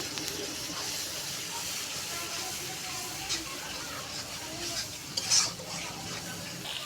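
Steady frying hiss of cumin and coriander spices in a pan, continuous and close, with a few soft stirring scrapes near the end and no talking.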